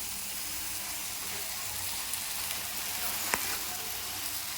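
Mango pieces fry in a pan with turmeric and salt, giving a constant, even sizzle with a single faint clink partway through and no talking.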